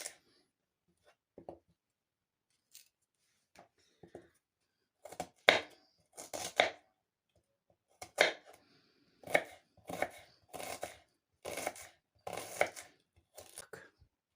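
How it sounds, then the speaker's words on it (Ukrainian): Knife chopping onion on a board: a few scattered chops, then a steady series of sharp, close cuts in bursts, with no talking. "Цибулю поріжу як на зажарочку."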